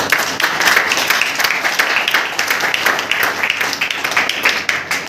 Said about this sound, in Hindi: उसके लिए जोरदार ताली बजाएं